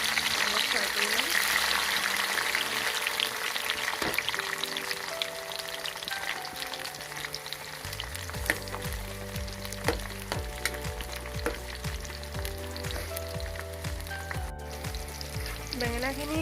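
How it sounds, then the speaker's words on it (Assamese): Brinjal pieces fry in hot oil for a pickle, giving a loud, continuous crackling sizzle that runs the whole time, with a voice speaking at moments over it. "তেলখিনি গৰম হৈছে, আৰু এতিয়া আমি ইয়াত বেঙেনাখিনি দি অলপ ফ্ৰাই কৰিম।"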